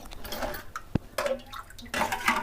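Water poured into a wok on a gas stove for boiling yardlong beans, heard as soft irregular splashing and trickling with a sharp clink of metal, fairly quiet and close.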